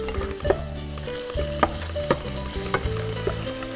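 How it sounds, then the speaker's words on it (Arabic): Garlic fries with a small knob of butter in a pan, giving a loud, steady sizzle broken by several short scraping stirs and clinks. "احنا حطينا الثوم مع حتة زبدة صغيرة"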